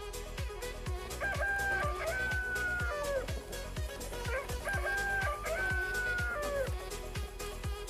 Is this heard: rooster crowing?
yes